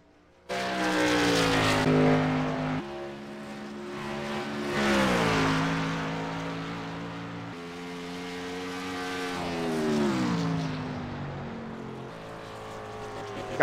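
A lone race car runs laps on a track during qualifying, its engine roaring loudly as it passes, climbing and falling in pitch through several rising and fading sweeps, with no other cars nearby.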